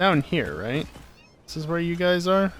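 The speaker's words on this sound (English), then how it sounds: "there's definite meowing occurring" Cat meowing in the video game Satisfactory, two drawn-out, wavering mewing calls in quick succession with a brief gap between them, mixed in with someone talking.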